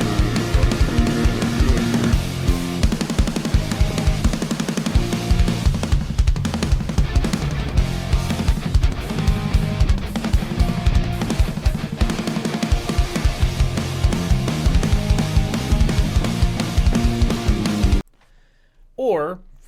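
Exhorter's rock cover of Freebird plays loud and dense, a full band with vocals, for about eighteen seconds before cutting off abruptly into near silence with a brief faint sound at the end.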